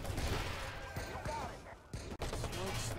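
AK-74 gunfire in the video game Watch Dogs: dense, rattling bursts of automatic shots over a busy, loud background, cut by a brief drop-out near the end.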